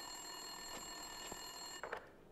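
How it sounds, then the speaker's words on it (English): A telephone rings in the video game Max Payne 2, a continuous electronic bell-like trill heard steadily and fairly faint, with a couple of soft thuds and a brief clatter near the end. "Winterson's phone was ringing."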